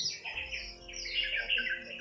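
Crows caw harshly a few times in quick succession, fairly close and loud, with no one talking.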